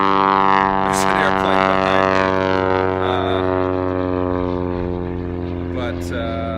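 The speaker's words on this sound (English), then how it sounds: "airplane behind me" A propeller airplane drones overhead with a steady, loud multi-toned engine hum that slowly fades, while someone speaks over it outdoors.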